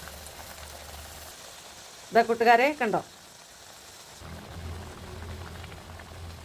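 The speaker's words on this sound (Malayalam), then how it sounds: "നമ്മുടെ പൂരി തിളച്ച എണ്ണയിൽ കിടന്ന് ഇങ്ങനെ കുത്തി മറിയുകയാണ്" Puri deep-frying in boiling oil makes a soft, steady bubbling sizzle up close. A short spoken remark briefly breaks in, then the frying continues.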